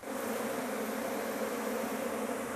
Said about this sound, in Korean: 이 녀석들이 다 제가 키우는 토종 벌통입니다